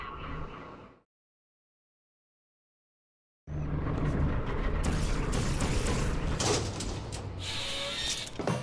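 Elevator machinery in the video game Portal 2, heard as a steady loud mechanical rumble with sliding and grinding textures that stops abruptly, falls silent for a few seconds, then resumes at full strength.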